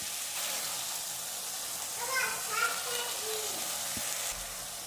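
Ground spice paste sizzling and frying steadily in a pan for mutton curry, a soft continuous hiss with a few faint background sounds and no talk.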